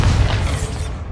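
Bombarda blasting spell detonating in Hogwarts Legacy: a short, loud, heavy boom with a deep low-end burst that fades quickly.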